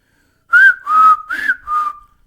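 A steam locomotive whistle sounds four short, loud tonal blasts in quick succession, alone with no talking.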